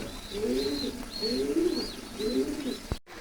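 Pigeons at a farm coo in soft, rolling repeated calls, a few low warbling phrases close by over a faint background hum, with a sharp click near the end and no clear talk.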